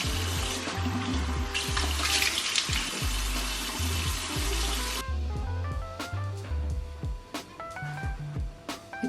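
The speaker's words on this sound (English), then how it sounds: "After that, I'll wash my face just with the plain water." Tap water runs and splashes in a sink while a face is washed with plain water, a dense close rush for about five seconds, then irregular drips and splashes as the flow stops.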